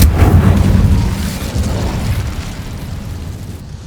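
A burst of fire from the Incendio spell in Hogwarts Legacy erupts with a loud, deep whooshing boom that rumbles on and slowly fades over a few seconds, with no voices over it.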